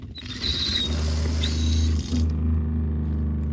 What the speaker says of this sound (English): Come out, turn on the water here real quick.